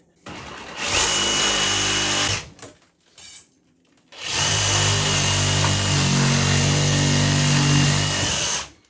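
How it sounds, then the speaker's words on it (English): A loud power tool cuts off a toilet flange during a bathroom remodel, running in a roughly two-second burst, pausing briefly, then grinding on steadily for about five seconds with a strained tone, close to the microphone. "what I'm going to do is cut off this flange"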